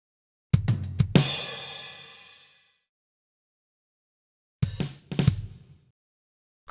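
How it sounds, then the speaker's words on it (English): A drum set plays two short fills, each made of quick hits. The first ends in a crash cymbal that rings out and slowly fades. A pause of silence separates the first fill from the second, which is briefer and tighter. "You found the drum set."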